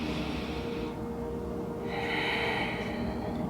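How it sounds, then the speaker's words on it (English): A person in a yoga pose breathes slowly in and out, two long airy breaths close up over a steady low background hum, with no talking. "breathing in and out"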